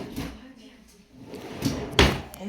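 Kitchen cabinet drawers sliding open and shut, a few soft rolling movements ending in a sharper close, with a person talking over them.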